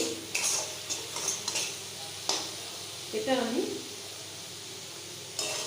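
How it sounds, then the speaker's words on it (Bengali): Slit green chillies fry in a hot pan for a potato curry, a steady sizzle broken by clinking strokes of stirring, with someone speaking briefly over it. "কাঁচা লঙ্কা চেরাগুলো এর মধ্যে আমি দিয়ে দেব।"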